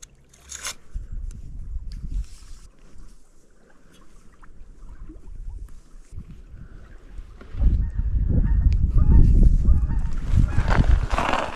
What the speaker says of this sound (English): there's a bunch of geese flying around over there. Noisy little buggers